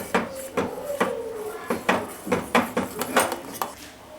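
Cocoa powder is mixed quickly into melted babka filling in a pan, giving a run of sharp close clinks and scrapes of a utensil against metal in an uneven rhythm, with no voice.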